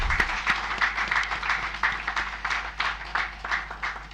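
A round of applause at a presidential ceremony, a smaller group clapping in uneven rhythmic bursts, fairly close and loud with a steady low hum beneath.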